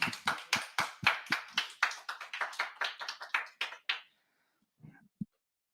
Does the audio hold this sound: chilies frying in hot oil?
no